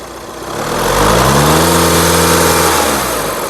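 A 2015 Audi A6 S Line engine revs up, its pitch climbing and holding at a loud roar before easing back down toward idle, nearby with no voices.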